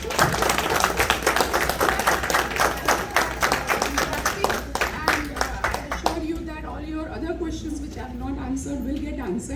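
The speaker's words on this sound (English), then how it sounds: "Let's give a big round of applause." Audience applause after a medical presentation on autism and cerebral palsy, sharp close claps from a small group for about six seconds, fading out as a voice begins talking over a low hum.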